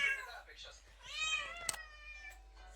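A cat meows once, fairly close, alongside a person talking nearby.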